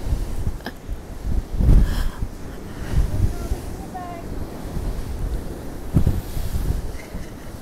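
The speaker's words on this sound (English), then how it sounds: "And then down here, they're just ordinary normal waves." Big surf and strong wind at the seaside at high tide, with waves crashing and roaring continuously and gusts buffeting the microphone, loud and close throughout.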